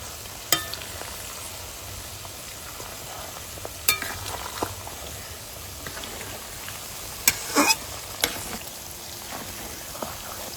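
Tulsi leaves and four hibiscus flowers frying lightly in a pan, a steady soft sizzle with a few sharp clicks and clinks of the utensil scattered through, no talking.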